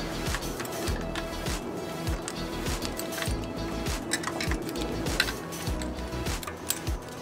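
A tool ratchets and clicks while tightening the kickstand bolt on an Emove Touring electric scooter, producing rapid, close metallic ticks and small clinks in a steady run.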